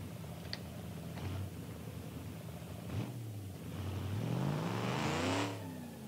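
Supercharger whine from a car in a BeamNG driving game, a rising, revving engine note with a high whir climbing over several seconds, moderately loud and alone without talk.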